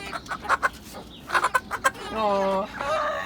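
Chickens clucking close by in short bursts, then a longer drawn-out call, with someone working to catch and settle the birds outdoors.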